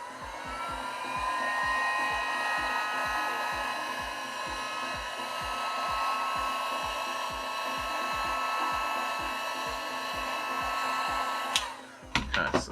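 Heat gun blowing hot air at a cricket bat sticker to lift it, giving a steady loud whooshing hum with a fine regular motor pulse that runs unbroken for about twelve seconds before switching off with a few clicks.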